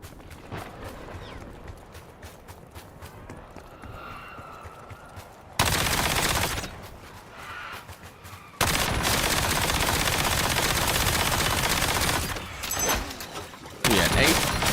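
Video game gunfire in long dense bursts of rapid shots, loud and close, broken by quieter stretches of softer ambient sound and short gaps.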